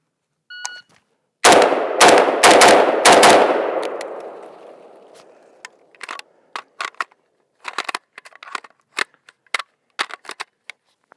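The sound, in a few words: rifle shots from Galil Ace 5.45x39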